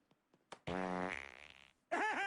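A loud, long, close fart with a buzzing flutter, followed after a short gap by a second, wobbling burst.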